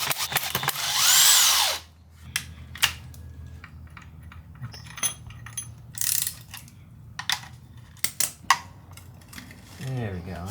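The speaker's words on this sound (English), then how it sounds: "I like when there's a lot of bolts being taken out" A power tool zips bolts out of a 1955 Ford F100 pickup in a garage: short, loud mechanical ratcheting bursts, repeated back to back with pauses between, close up, with brief voices in the gaps.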